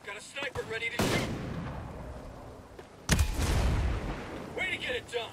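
Two loud sniper shots crack out in Ghost Recon Breakpoint, each a sharp blast followed by a long rolling echo, with brief voices before the first and after the second.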